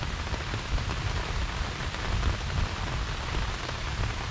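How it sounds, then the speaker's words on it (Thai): Steady, dense rain pours down on a surface, a constant wash of drops with no breaks, fairly close and even in loudness. "ฝนก็ตกด้วยแรงด้วย"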